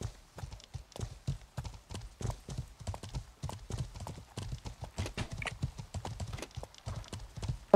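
Horse hooves clip-clop steadily on the ground in the medieval game Life is Feudal, a brisk, even rhythm of close, distinct hoofbeats with no talking over them.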